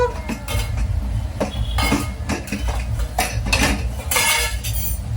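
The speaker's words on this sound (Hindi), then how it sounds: "मैं ऐसा करती हूँ कुकर खोल देती हूँ ताकि आलू तो ठंडे हो कम से कम।" A pressure cooker of boiled potatoes is opened in a home kitchen, with repeated metallic clinks, clatters and scrapes of the lid and utensils in irregular bursts over a low background hum.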